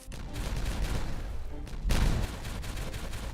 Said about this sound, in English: We're making progress. One explosion at a time.